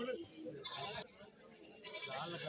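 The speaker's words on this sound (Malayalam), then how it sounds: "ഇവിടെ ഒരു മുട്ടനാട് വളർത്താൻ ഇറച്ചി ആവശ്യം പറ്റിയൊരു മുട്ടനാടിനെ കൊണ്ടുപോകുന്നുണ്ട്" A billy goat bleats at a goat market, a short nasal cry heard close but partly mixed with someone talking over it.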